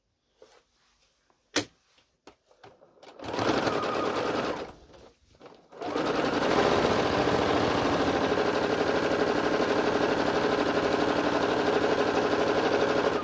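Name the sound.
sewing machine stitching a lunch bag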